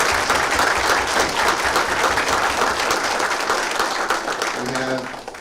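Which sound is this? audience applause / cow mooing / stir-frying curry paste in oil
audience applause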